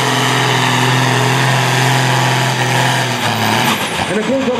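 A 4500 kg sport-class pulling tractor's engine roars loudly and steadily at full power, then the pitch wavers and shifts near the end as the run strains.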